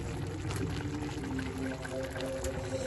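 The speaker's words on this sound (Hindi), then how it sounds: "अब इस मौके के ऊपर इसमें घी डाल देते हैं।" Ghee is poured into a pan of beef and pea keema after its water has dried off, a steady hissing, sizzling wash that runs evenly throughout without a break.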